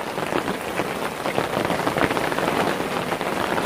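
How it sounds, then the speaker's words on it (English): Heavy rain pours down at an outdoor fishery, a dense, steady hiss of drops drumming on surfaces close by, loud and continuous with no voices. "Some serious rain is out here."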